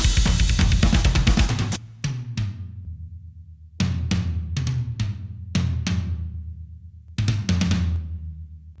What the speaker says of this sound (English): So as you hear, there's nothing else but the toms